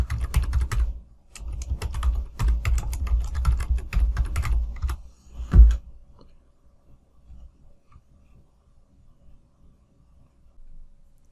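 A letter is typed on a computer keyboard in rapid, irregular bursts of close key clicks for about five seconds, ending in one louder key strike, then near silence with faint taps.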